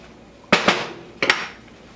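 A metal spoon clinks against a cooking pot while stirring stock for creamy lentils with mushrooms and kale: two quick pairs of sharp, close knocks about half a second apart, then a quiet tail, with no talking.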